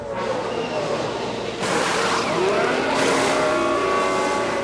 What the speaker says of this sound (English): And Maloney getting up to speed.